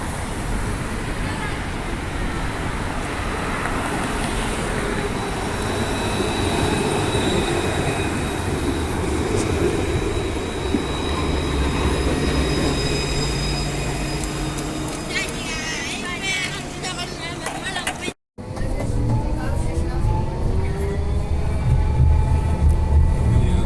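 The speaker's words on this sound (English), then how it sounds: "Here's a 200 class tram to the entertainment centre." Adelaide 200 class tram heading to the Entertainment Centre passes close by, a long loud rumble of wheels on rails with squealing and whining tones, traffic noise behind, a brief cut, then a tram motor hum resumes.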